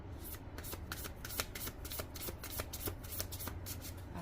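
Tarot cards are riffled and shuffled by hand in quick, crisp bursts of flicking and slapping, a continuous close-up rustle with sharp clicks for several seconds and no talk.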